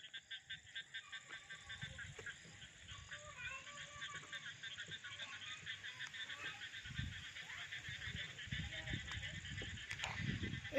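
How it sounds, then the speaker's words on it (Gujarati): Frogs croak in a continuous pulsing chorus on an evening farm among coconut trees during the rainy season, with insects trilling steadily above them. The chorus is faint and distant and keeps swelling gently. "દેડકા બોલે છે"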